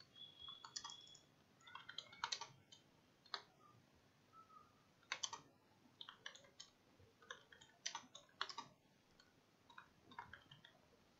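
Keys clatter on a computer keyboard in uneven bursts of quick clicks with short pauses between, fairly quiet and close, no voices.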